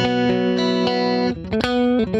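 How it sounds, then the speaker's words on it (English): Sustained electric guitar chords through a tube amp ring out clean and bright, shifting between notes with a few quick strums near the end, no voices. "It's just a beautiful, clean sounding amp."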